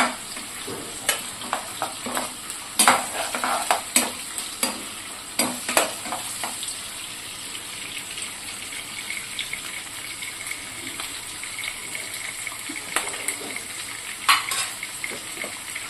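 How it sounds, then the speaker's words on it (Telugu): Onions frying with green chillies, cinnamon, cloves, bay leaf and cardamom in a pan for pudina rice, a steady sizzle under repeated clanks and scrapes of a spoon stirring, close and continuous with no talk. "ఈ ఆనియన్స్ అనేవి మంచిగా ఫ్రై అయిపోవాలండి."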